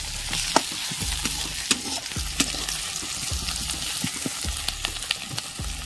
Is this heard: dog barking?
no